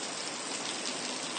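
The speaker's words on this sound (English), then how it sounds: "I'm standing outside the cabin listening to the rain." Steady rain falls outside a cabin in the woods, a dense, even hiss of drops hitting surfaces with no voices.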